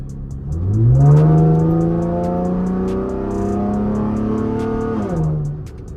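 A V6 Camaro fitted with an 80mm throttle body revs gently once, the engine note rising smoothly, holding steady for several seconds, then falling back toward idle, loud and close with no voices.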